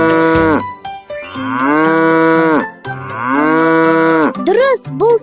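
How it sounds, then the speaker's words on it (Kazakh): A cow moos loudly and close by: two long, drawn-out lowing calls, then a few shorter rising moos at the end. No voices are heard. "Дұрыс, бұл сиыр."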